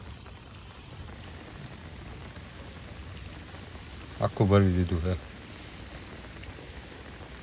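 Heavy rain pours down on a village near Junagadh, a steady, even hiss that continues throughout, while someone speaks briefly near the end over it.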